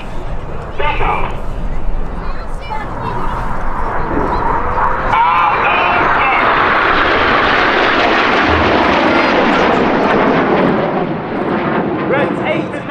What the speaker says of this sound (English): Each pair will now dive down to approximately 200 to 300 feet above the airfield.